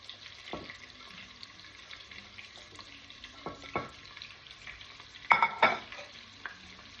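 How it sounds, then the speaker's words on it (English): Sliced onion and small-to-medium chilies frying in a pan, a faint continuous sizzle with a few sharp utensil knocks and scrapes, one louder cluster near the end, close by and without voices. "Just gonna let this fry."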